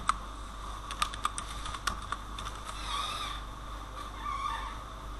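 Keys clatter on a computer keyboard as a project name is typed, a quick burst of separate clicks followed by a few scattered taps over a faint room hum.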